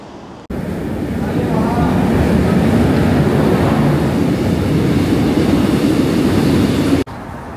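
Inside a moving subway train in Suwon, South Korea, a loud, steady rumble and roar fills the carriage, with muffled voices faintly mixed into the noise.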